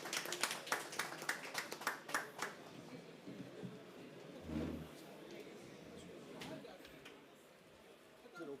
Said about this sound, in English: Please give a round of applause to all our panelists